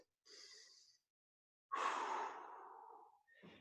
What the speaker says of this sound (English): Big exhale like we're blowing out birthday candles.